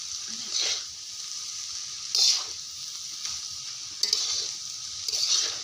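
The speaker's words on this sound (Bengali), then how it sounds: "চাউমিনগুলো দিয়ে ভালো করে নাড়ছে।" Restaurant-style chicken and egg chow mein is stirred in a hot pan, with soft sizzling throughout and repeated scraping tosses at an uneven rhythm, close and moderately quiet.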